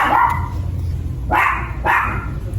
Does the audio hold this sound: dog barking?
yes